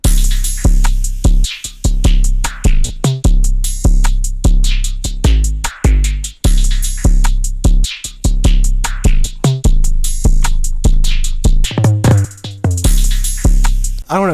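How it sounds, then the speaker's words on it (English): Drum pattern for a dark string trap beat built in FL Studio, with a dense loud rhythm of booming low kicks, sharp snares and rapid hi-hat rolls that runs continuously and alone, with brief drop-outs and fills. "the drum solo would sound like this"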